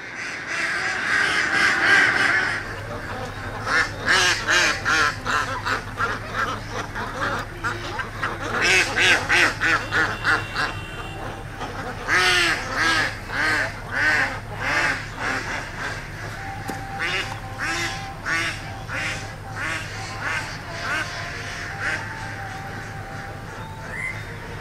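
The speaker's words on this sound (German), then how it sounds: "Schon vom Weiten hören wir das Geschnatter von Enten" Crows caw repeatedly while ducks quack in a chattering flock in Kerala, the birds fairly close with overlapping calls and no talk.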